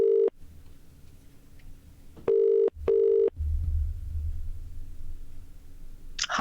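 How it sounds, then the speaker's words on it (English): A phone ringing tone sounds in distinct bursts: one short ring, a pause, then two quick rings, over a low background hum. "There you go, that's ringing."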